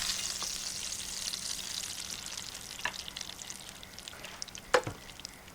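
Fish for a curry fries in a pan with a steady close sizzle and crackle, broken by a few sharp spatters and small clatters near the end. No one speaks.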